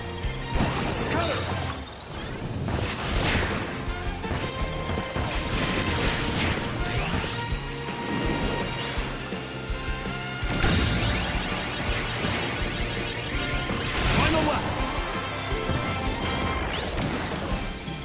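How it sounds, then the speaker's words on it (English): Kirby Air Riders video game effects: copy abilities hitting each other, boost charging and spinning, heard as dense, continuous crashes, whooshes and mechanical clatter with repeated louder impact bursts throughout, loud and busy. "The sound effects too are just awesome, which how each copy ability hits each other, the boost charging, the spinning"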